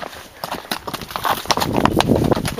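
Horse hooves clop on rocky ground during a trail ride, close uneven clattering strikes and scuffs in quick succession, growing louder toward the end.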